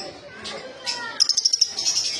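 Yellow Fischer's lovebirds chirp close by, a quick run of sharp, high tweets in a rhythmic burst over soft background noise, with faint other chirps before it.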